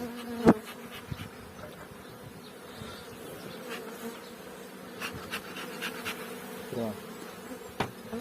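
Honeybees around a hive hum steadily in a low, continuous drone, with occasional light knocks and rustles nearby.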